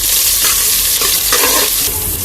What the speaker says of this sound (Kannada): ಚೆನ್ನಾಗಿ ಗೋಲ್ಡನ್ ಬ್ರೌನ್ ಬರೋ ತನಕ ಫ್ರೈ ಮಾಡ್ಕೊಳ್ಳೋಣ.